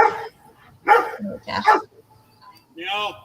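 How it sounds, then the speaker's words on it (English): Neighbor's dog barks a few sharp, separated times at a campground, the barks mixed in with nearby talk. "That's the neighbor's dog."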